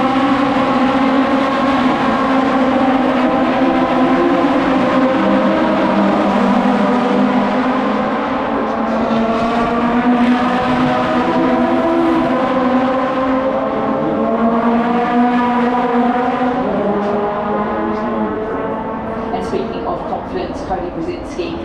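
V8 Supercars race cars roar past on the Gold Coast street circuit, a loud sustained engine drone with shifting pitch that runs the whole time beneath a commentator's voice.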